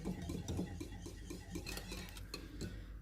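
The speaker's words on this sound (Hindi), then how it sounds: "और इसको हम अच्छी तरह से फेंटेंगे।" A utensil clinks and scrapes steadily against a bowl while yogurt is whisked with milk, a busy, close mixing noise that runs continuously without speech.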